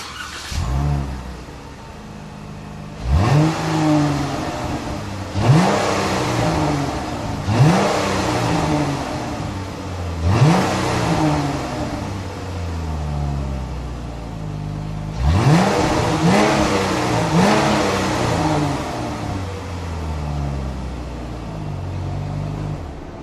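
A Ram 1500 pickup with the 3.5 liter V6 Pentastar engine revs repeatedly, each sharp climb in pitch falling back to a steady idle, with two clusters of throttle blips in close succession, loud and close.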